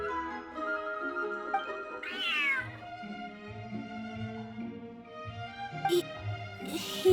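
Cat meowing in the Genshin Impact video game, several drawn-out meows and one sharper caterwaul spread across a soft background of game music, close and fairly loud.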